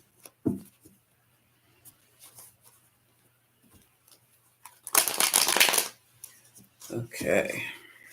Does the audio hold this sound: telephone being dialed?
no